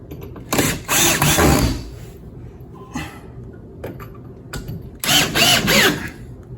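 Power drill driving screws into new wooden framing around an interior window opening, in loud whirring bursts separated by short pauses, each burst ending as the screw seats, close by with no talking.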